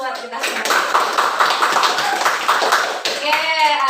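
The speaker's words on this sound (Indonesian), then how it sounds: "Beri tepuk tangan dulu buat kita semua." A classroom of children claps their hands together in a steady burst of applause lasting a few seconds, with voices talking at the start and end.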